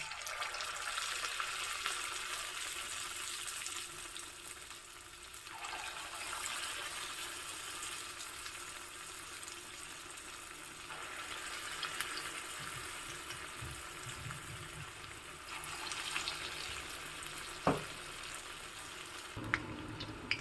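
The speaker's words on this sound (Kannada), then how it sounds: "ಈಗ ರೆಡಿ ಮಾಡ್ಕೊಂಡಿರೋ ಹಿಟ್ಟಿನಿಂದ ಬೋಂಡವನ್ನು ಬಿಡೋಣ" Bonda batter sizzles and fries steadily in hot oil in a dosa pan, a continuous bright crackle with a few soft clinks of utensils, close and fairly quiet, with no talking.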